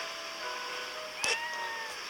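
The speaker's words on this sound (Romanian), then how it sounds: "Uite pisică." A cat meows once, briefly and faintly, in the video game Fallout Shelter, over a steady bed of game music and hum.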